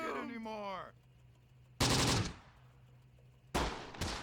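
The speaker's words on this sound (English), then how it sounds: "There's our full machine gun squad." Machine gun fire in the video game Close Combat, two loud bursts of rapid gunfire breaking over a low hum, with a voice-like tonal sound just before.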